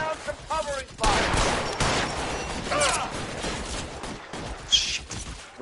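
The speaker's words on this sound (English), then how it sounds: "Lay down some covering fire." Gunfire in the video game LA Noire comes as bursts of shots and mechanical clatter at moderate volume, spread unevenly across the scene. A voice speaks briefly at the start.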